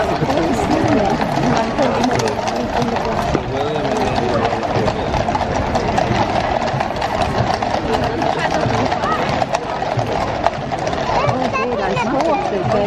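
Horses' hooves clip-clop in a steady, busy rhythm at Trooping the Colour, mixed into dense crowd noise and nearby chatter throughout.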